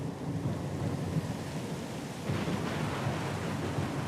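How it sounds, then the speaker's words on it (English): A thunderstorm in the video game Pillars of Eternity II, with a continuous wash of heavy rain and rumbling thunder that swells louder midway, no voices. "Lost and alone in the storm?"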